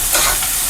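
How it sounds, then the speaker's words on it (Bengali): Tomatoes dropped into hot oil with frying onion, ginger and garlic for matar paneer, giving a loud, close, continuous hissing sizzle. "এখন টমেটো দিয়ে দিব, পেঁয়াজ আর আদা রসুন এগুলো ফ্রাই হয়ে গেছে ভালোভাবে"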